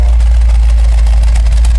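A 1970 Dodge Challenger R/T engine idles with a deep, steady rumble continuously at close range, low and throbbing with no breaks.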